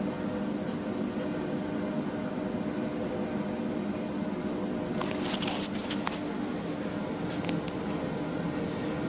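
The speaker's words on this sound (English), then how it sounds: "initiate a command to return to origin, which basically is going to move the head to the front left of the machine" Topaz XII machine head creeping slowly back to its origin at the front left of the machine during first start-up, a steady droning motor hum with faint clicks and ticks over it.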